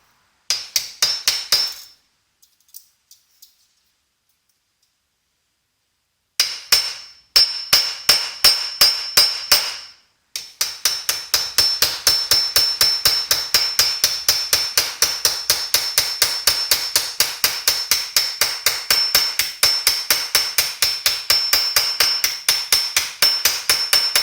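A metal rivet being hammered by hand, with sharp ringing blows: a few scattered strikes, a long silence, then a short burst and finally a fast, relentless stream of loud, evenly spaced hits.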